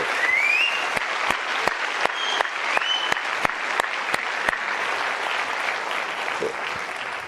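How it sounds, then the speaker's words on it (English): Sustained applause from an audience at the closing of the 2024 President's Innovation Challenge, steady dense clapping filling the whole stretch with a few sharper claps standing out. "Please join us in one last round of applause for our winners, our finalists, every venture that participated in the PIC."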